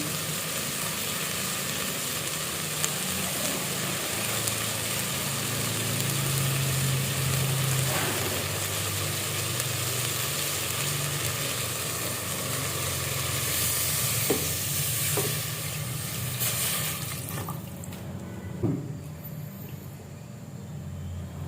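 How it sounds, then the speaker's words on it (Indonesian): Bat meat stew bubbling in a pot over an outdoor fire, a steady close sizzle and simmer running unbroken throughout with a faint engine-like hum beneath and no talking. "sambil menunggu daging kelelawar ini masak, yang pastinya menunggu mendidih sampai masak"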